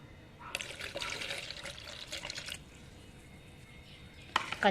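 Water pours for about two seconds in a soft splashing stream into a charcoal-based organic fertilizer mix, then quiet stirring, ending with a short clink.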